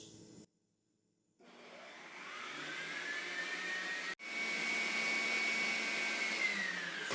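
An electric mixer beats eggs and sugar for a buttery cake batter, running on a low speed setting. A steady, loud whir starts after a short silence, cuts out for a moment, then carries on evenly.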